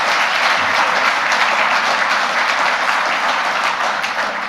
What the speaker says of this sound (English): How about a round of applause for Lee?